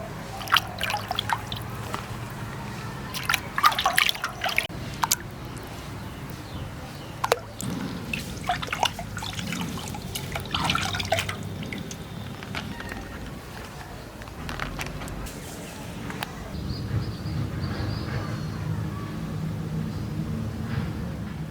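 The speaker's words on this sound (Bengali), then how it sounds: "তা এখন সুন্দর করে আমি ধুয়ে নেব।" Tap water runs and drips over pieces of rohu fish being washed in a kitchen, a steady splashing trickle with irregular clatters, continuing alone without talk for about twenty seconds.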